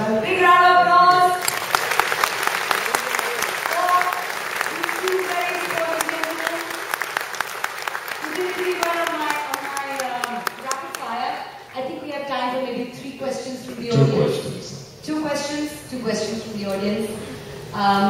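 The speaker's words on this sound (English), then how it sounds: "A big round of applause." Audience applause at a cricket chat show event held in a Mumbai hotel ballroom, with dense clapping filling the hall at first and then thinning out as voices carry on over the fading claps.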